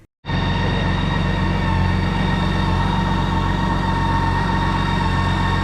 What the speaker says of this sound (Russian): для начала мы в данный момент времени прогреем мотоцикл